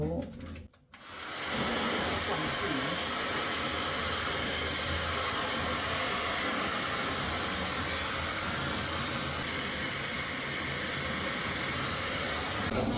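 Steady, loud blowing hiss of a hair dryer drying someone's hair in a hotel room while getting ready in the morning, running continuously after a brief pause near the start.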